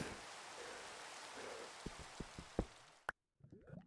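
Steady rain hisses in Minecraft, a broad wash of patter with a few sharper drops near the end before it cuts out abruptly, leaving faint quieter sounds.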